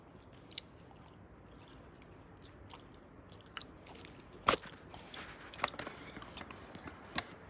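Soft, irregular chewing with occasional crisp clicks and smacks, close to the ear over a quiet background hiss, no talking.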